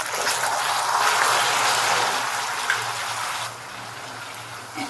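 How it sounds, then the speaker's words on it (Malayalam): Half a cup of water poured into hot caramel erupts in a loud, hissing, bubbling gush that holds steady for a few seconds, then abruptly drops to a quieter simmering sizzle. "അതിനുശേഷം നമുക്കൊരു അരക്കപ്പ് വെള്ളം ഒഴിച്ചു കൊടുക്കാം."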